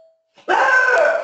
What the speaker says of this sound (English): Somebody just rang my doorbell and my dog decided to chime in.